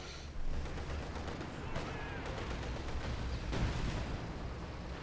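Katyusha rocket launcher salvos in a World War II strategy game fire as a rolling series of booming, crackling launches over a low rumble of battle, fairly quiet in the mix.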